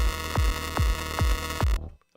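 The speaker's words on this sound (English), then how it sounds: "so like without the reverbs, with the bit crushing it sounds like this." A bit-crushed metalcore track without reverb plays as gritty, heavy hits, four evenly spaced booming thumps over a dense, harsh wash, then cuts abruptly to near silence.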